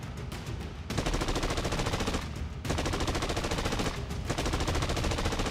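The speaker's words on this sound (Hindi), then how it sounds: "ताबड़तोड़ गोलियां बरसने लगी।" Heavy machine-gun fire in a Naxal ambush on a CRPF road-opening party, dense continuous bursts of rapid shots with two short lulls, loud and close.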